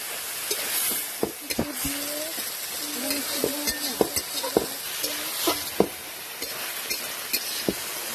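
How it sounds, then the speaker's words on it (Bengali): Spatula clanking in a pan while fried vegetable stalks for a Bengali fish chachchari sizzle steadily, with scattered sharp metal knocks and a faint tonal hum, close up and without talk. "ডাঁটাটাকে মারছি খুন্তি দিয়ে।"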